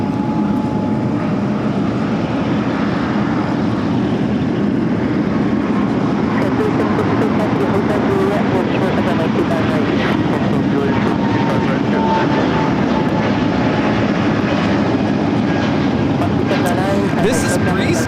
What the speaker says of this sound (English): This is Breeze Airways Flight 709 taking off to Pittsburgh on the A220-300